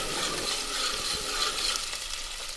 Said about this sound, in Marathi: आता ही लाल हुसतोवर चांगला भाजायचा.